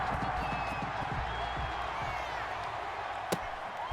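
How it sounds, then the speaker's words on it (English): Stadium crowd noise from a Madden 21 football game between the Los Angeles Rams and the Washington Football Team, a dense continuous roar with scattered claps and a sharp thump near the end. "This crowd is ready as their guys get set to match up"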